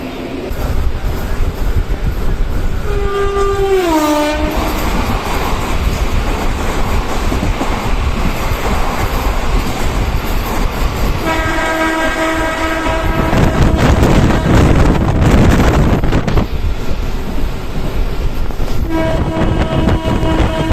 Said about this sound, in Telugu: మనకి ఇప్పుడు నర్సాపూర్ నుండి ధర్మవరం వెళ్ళే ఎక్స్ప్రెస్ వస్తుంది